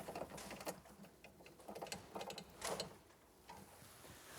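Screws are driven to fix a channel in a kitchen corner unit, giving a quiet, close run of rapid mechanical clicking and ratcheting in uneven bursts with short pauses.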